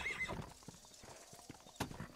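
A horse in the Red Dead Redemption video game whinnies at the start, then clip-clops with scattered hoof steps and a sharp noise near the end, moderately quiet overall.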